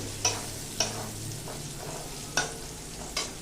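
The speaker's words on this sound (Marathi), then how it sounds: "हे झाल्यानंतर 2 मिनिटांसाठी ही जी डाळ आहे ही छान परतून घ्यायची फोडणीमध्ये" Dal fried in an oil tempering for a cabbage dish gives a faint, soft sizzle, while a spoon stirring in the pan makes a few sharp, spaced clinks and taps.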